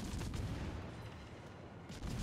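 Shell gunfire and explosions in a naval battle game replay, a dense continuous rumble of distant booms under steady broadband noise.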